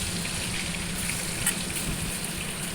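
Potatoes sizzle steadily in hot oil in a frying pan, a continuous close crackle and hiss with no speech.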